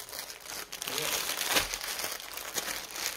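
A Disney cross stitch kit package being opened, its plastic wrapping crinkling and rustling continuously up close while someone talks over it.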